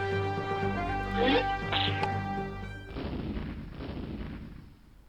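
A slingshot kills the giant in a remake of the King's Quest video game: melodic game music gives way to a sudden loud, rumbling crash that fades slowly over the last two seconds.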